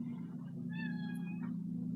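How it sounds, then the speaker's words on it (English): A pet cat gives one clear, drawn-out meow over a steady low hum in a quiet room. "In case those of you who are new, Axel's my cat"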